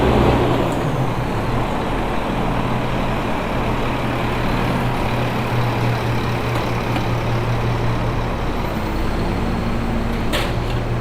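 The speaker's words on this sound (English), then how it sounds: "pass these garbage trucks for a minute." Garbage trucks pass on a rainy Midtown Manhattan street at night, a loud continuous engine rumble and idling drone with rain and traffic wash around it, steady for the whole stretch with no talk.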